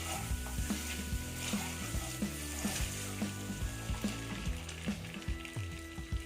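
Eggs frying in a pan of spiced masala for egg biryani, a steady close sizzle broken by regular scraping and stirring knocks of a spatula, no talking.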